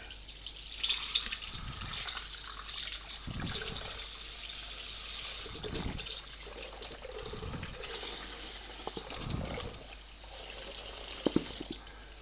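UHT milk glugs out of an opened one-litre carton in a run of soft, uneven liquid pulses, close and steady, with no talking.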